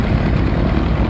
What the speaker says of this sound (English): look at the Yak 54 hanging on the prop